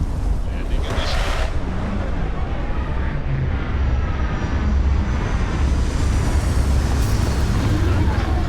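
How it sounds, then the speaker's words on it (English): Spaceship landing in the video game Starfield: a steady, loud roar of engine thrust and rushing wind holds for several seconds at full strength, with faint whining tones running through it. "Everything checks out. Landing initiated."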